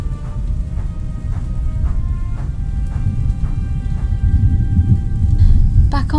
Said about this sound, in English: Back on Sodor, the storm was raging there too.